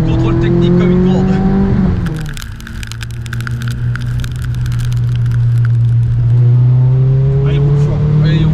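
A car drives fast on a circuit, its engine droning loudly and steadily throughout, pitch rising, dipping and climbing again as it accelerates, with wind and road noise over it.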